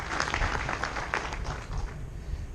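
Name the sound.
audience clapping for an honoured guest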